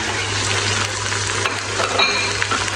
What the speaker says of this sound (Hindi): गोश्त को हम थोड़ा सा फ्राई कर लेंगे, इससे प्याज भी थोड़े से गल जाएंगे